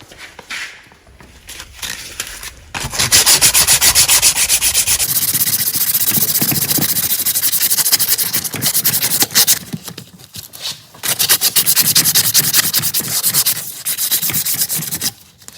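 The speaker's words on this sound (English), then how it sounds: "You can tell there's pretty rusty, so I'm going to just sand that off, clean it right up." Steady abrasive sanding scrubs rust from a steering part of a John Deere D110 lawn tractor, loud and close, running continuously for several seconds with a brief pause before resuming.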